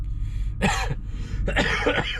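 Two harsh, throaty coughs close to the microphone, separated by a short pause, with no speech.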